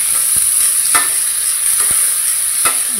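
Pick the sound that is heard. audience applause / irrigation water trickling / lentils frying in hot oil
lentils frying in hot oil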